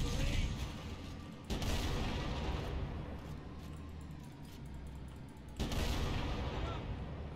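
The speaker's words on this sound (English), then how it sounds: "I was gonna say two shots from a cannon." Cannon fire in the Halo video game campaign, two heavy booming blasts separated by a few seconds over a dense, continuous wash of game combat noise, loud and up close.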